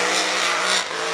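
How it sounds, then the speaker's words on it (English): A racing hydroplane's motor winds up loud and close during a qualifying lap at a river regatta, a dense high-pitched engine roar that holds steady then eases slightly near the end. "You can hear the motor wind up."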